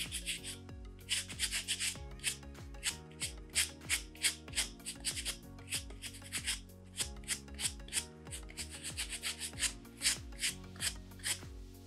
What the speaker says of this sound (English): You just take the corn, hold it here, and give it a nice little rub.